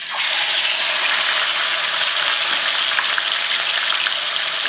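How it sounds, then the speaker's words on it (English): Loud, steady sizzling and crackling of chicken frying in hot oil with garlic, close up, with no voices. "and watch it sizzle."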